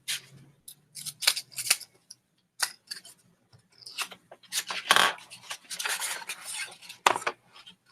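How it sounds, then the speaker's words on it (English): Scissors or a blade cut through a ScratchFoam printing plate to free a shape, giving close, intermittent scraping and snipping bursts in irregular runs separated by short pauses, with no talking. "I think I want to cut this whole shape out"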